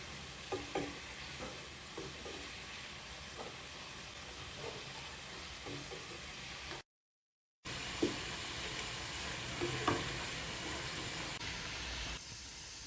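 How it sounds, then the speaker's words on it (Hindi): Homemade potato chips, some with skins left on, fry in hot oil with a steady crackling sizzle, punctuated by soft scraping and clinks of stirring; the sizzle cuts out briefly midway, then resumes. "साथ साथ हम इस तरह मिक्स करते रहेंगे ताकि हर तरफ से ये अच्छे से क्रिस्पी हो जाए।"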